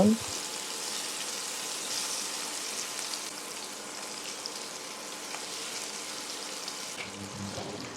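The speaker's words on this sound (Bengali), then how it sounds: "এখন আমি মাছগুলো সব ভেজে নেব" Marinated puti fish fry in hot mustard oil, giving a continuous, even sizzle with a brief louder splatter as the fish go into the pan.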